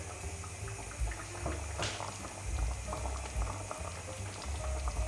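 Plum jam boiling in a pot, a continuous close bubbling with frequent thick pops and burbles, steady throughout, with no talk.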